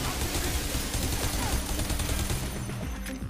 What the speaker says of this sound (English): At least you can burst fire.